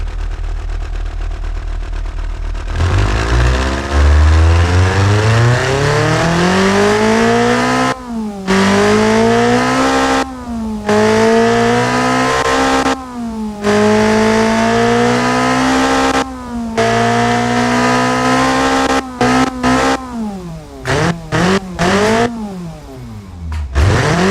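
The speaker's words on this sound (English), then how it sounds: "The exhaust is popping and banging." A loud video game car engine with carburetors and a turbo revs and climbs through gears continuously, with brief gaps at shifts and sharp crackling exhaust pops near the end.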